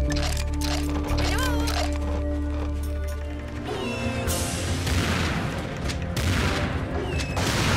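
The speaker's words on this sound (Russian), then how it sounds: "Граната и двустволка решают проблему" Grenade blasts and double-barrel shotgun blasts in Serious Sam 2 come as a dense run of loud cracks and booms over a steady game soundtrack, with a voice talking briefly beneath the mix.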